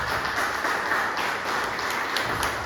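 A church congregation claps for Jesus at a Sunday service, a steady crowd applause that holds at an even level through the whole moment.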